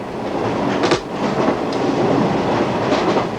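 The Zambezi Express rolls along the Rhodesia Railways line, its carriages rumbling steadily with a rhythmic clickety-clack of wheels over rail joints, heard close and loud with no voices.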